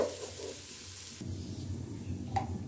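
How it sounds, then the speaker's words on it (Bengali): Raw rice grains frying in oil in a pan while being stirred, a soft, even sizzle with light scraping, faint and steady under a low background hum. "চালগুলো আমি ভালো করে ভেজে নেব, ততক্ষণ পর্যন্ত নাড়বো যতক্ষণ পর্যন্ত চালগুলো নিজে থেকে আলগা না হয়ে যায় তেল থেকে।"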